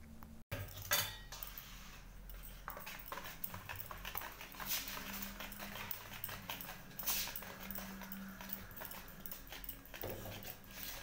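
Dry ingredients being stirred into cake batter in a bowl for a homemade Christmas cake give a steady run of utensil knocks, scrapes and light clinks against the bowl, close and continuous throughout.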